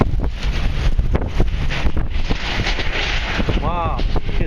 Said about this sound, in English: This is gonna be at least 80-mile-an-hour wind.